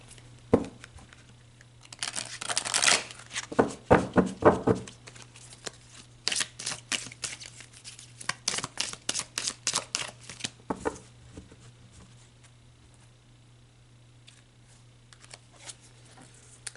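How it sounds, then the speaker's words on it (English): Oracle cards being shuffled and pulled from a deck during a reading: a burst of riffling card noise, then a run of separate sharp flicks and slaps that thin out toward the end, close and without talk. "So let's pull you an oracle card, Taurus."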